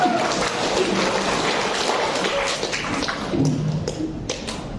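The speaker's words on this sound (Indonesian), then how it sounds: "Aplaus untuk semua regu." An audience at a Fahmil Qur'an quiz semifinal of the MTQ XXXII South Sulawesi competition in Bone gives sustained, close applause to all the teams, steady throughout with a few louder claps near the end.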